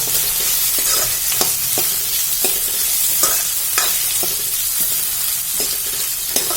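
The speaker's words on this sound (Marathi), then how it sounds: "आता 1 अर्धा मिनिट आपण हे परतून घ्यायचं।" Kashmiri red chilli powder sautéing in hot tempering oil for South Indian sambar, a steady sizzle broken by repeated scraping strokes of a spoon across the pan, close and moderately loud with no voices.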